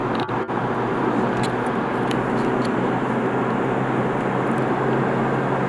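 A Jeep Compass under full throttle at high speed, about 140 km/h, a dense steady engine and road roar inside the cabin that holds constant and loud throughout, with no talk.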